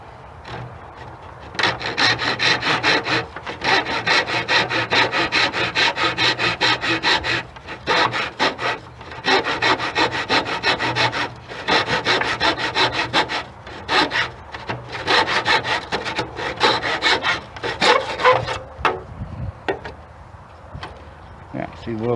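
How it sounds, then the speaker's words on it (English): Hand saw cutting through wood trim set in a miter box, with steady back-and-forth rasping strokes in a continuous rhythm, a few brief pauses, close and loud. "Let's stick that in our miter. And we want to cut it right on that point."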